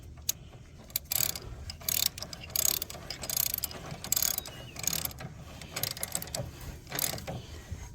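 A ratchet wrench tightens bolts back down on a John Deere mower deck, with quick clicking bursts of ratcheting and a few metallic knocks, fairly quiet and close.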